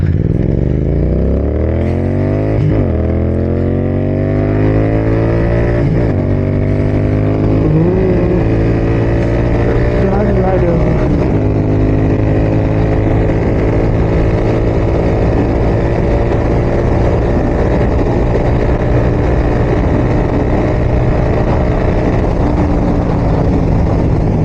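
A motorcycle ride out toward Shamirpet Lake, the engine droning loud and close throughout with several rising and falling revs as the rider slows on engine braking, then holds a steady hum.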